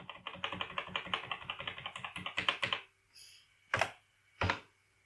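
Computer keyboard typing: a fast run of even key clacks, then a few louder separate key strikes after a pause, close and clear with no talk.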